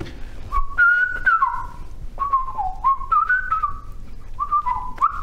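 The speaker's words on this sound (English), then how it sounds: "whistle a tune for me." A man whistles a short melodic tune in several rising and falling phrases with brief pauses between them. The whistling is clear and close, with quiet room background and no speech.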